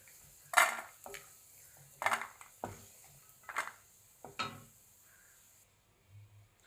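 Fried cashews scooped from a pan onto a plate, giving five close, distinct metallic clinks and scrapes spaced about a second apart in a quiet kitchen, followed by a soft final scrape.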